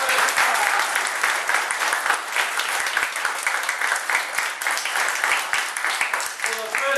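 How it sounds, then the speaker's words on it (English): Loud, sustained applause from an audience cheering on schoolchildren after a poetry performance, continuous clapping with sharp individual hand claps throughout. "they deserve a big, big clap"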